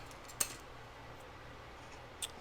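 Two crisp scissor snips cut a small piece off a scored paper bag, close and fairly quiet, spaced about two seconds apart over faint room hiss.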